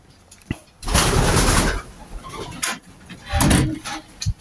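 Breeder pigeons in a cage give soft cooing calls amid bursts of fluttering and shuffling, with several loud broadband flurries of wing and cage movement at close range.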